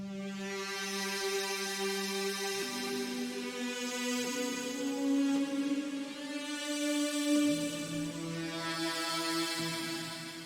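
A glidey "Outer space" pad preset from the Doomsday Serum pack for the Serum synth, sustained tones sliding slowly between pitches with bright shimmering upper layers, steady and moderately loud throughout, no voices.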